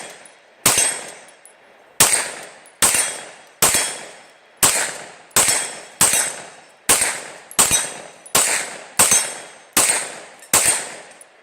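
Rapid gunfire at an outdoor shooting range from a rifle fitted with a red dot sight, a steady string of about fourteen loud, sharp shots with roughly even spacing and ringing decays, no voices.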